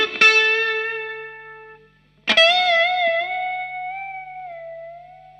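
Two sustained electric guitar notes from a solo, each struck sharply and left ringing with distortion and reverb, the second bent with vibrato as it slowly decays, no talk.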